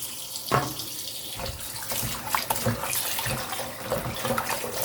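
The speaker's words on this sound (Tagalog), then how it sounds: "hugasan natin yung isda" Tap water runs steadily over fish being washed in a sink, with splashing and handling noises close by. There is brief faint talking.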